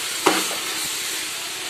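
Tomatoes with salt sautéing in a pan for chicken biryani give a steady, moderate sizzle, opening with a short sharp burst of hiss before settling into continuous frying noise.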